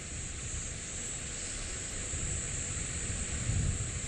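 Steady wind gusting across an open golf course at the BMW Championship, a constant broadband rush that swells slightly near the end, with no voices.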